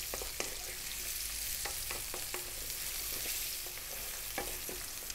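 Onion and carrot stir-fried on high heat for sweet and sour pork, kept constantly moving: a steady, close sizzle broken by sharp scraping and clacking strokes of the utensil against the pan, with no talking.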